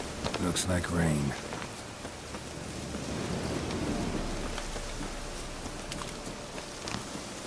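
Rain falls steadily in The Witcher 3: Wild Hunt, a dense hissing wash with a low rumble of thunder building in the middle, after a brief spoken line at the start.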